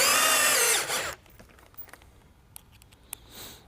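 A power drill whirs loudly for about a second, driving a screw into a Palm Beach shutter bracket on a bypass track system. Quiet taps and small handling clicks follow.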